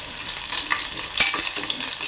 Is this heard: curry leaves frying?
yes